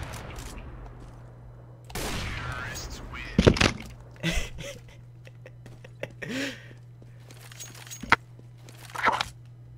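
Gunshots from CS:GO are heard in a 1v1 match. A few sharp cracks fire in short, scattered bursts while a player talks excitedly, with a steady low hum underneath.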